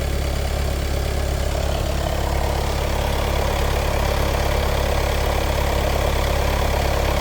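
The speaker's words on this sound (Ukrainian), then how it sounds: "Двигун працює м'якенько, тихенько." A Volkswagen Passat B diesel engine idles steadily with a smooth, low, even rumble throughout, close and constant, with no voices.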